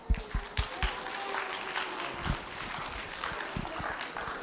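An audience applauds a guest presenter at a Take Our Daughters and Sons to Work event, a moderate, steady patter of clapping running throughout with a few sharper claps near the start.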